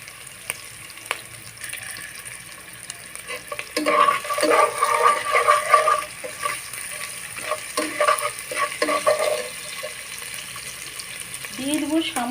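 Bottle gourd and taki fish fry with salt in a pan, heard as a loud crackling sizzle that swells midway, with repeated stirring scrapes over a quieter hiss.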